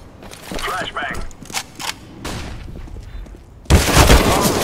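A flashbang grenade bursts in a first-person shooter game, a loud, sudden broadband blast near the end after a stretch of scattered gunfire, thuds and players talking over the action.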